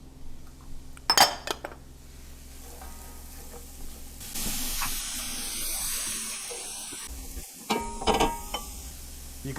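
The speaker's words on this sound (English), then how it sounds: "And we're going to add our onions first" Onions going into a hot pan to soften for stuffing, a few clattering knocks and then a steady hiss and sizzle that runs for several seconds before a few more utensil clinks.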